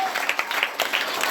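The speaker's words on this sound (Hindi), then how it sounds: "जोरदार तालियां" An audience at a higher secondary school play about Anandi Bai Joshi, India's first woman doctor, claps in a brisk, uneven patter of many hands, moderately loud, with a few voices faintly underneath.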